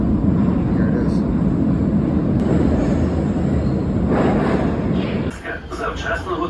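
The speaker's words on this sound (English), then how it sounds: "I was a bit worried until I just heard the sound, because my train is leaving in 25 minutes." A train in Ukraine pulls into a station with a loud, steady low rumble of wheels and carriages, easing off toward the end with some metallic squeaks.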